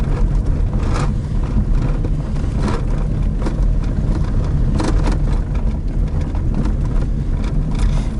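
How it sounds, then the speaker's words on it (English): A car passes on a road near the Oravasaari area in Finland, its engine a steady broadband rumble that holds loud and close for the whole stretch, with no speech over it. "Wow, another car here."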